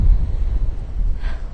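Brief burst of wind on a snowy Rhode Island beach after a snowstorm, low rumbling buffeting against the microphone, loud and close, with no voices.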